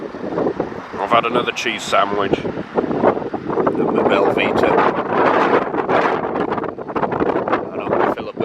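Wind gusts over an estuary on the Cork coast near Timoleague, buffeting the microphone in loud, continuous rushes while someone talks over it.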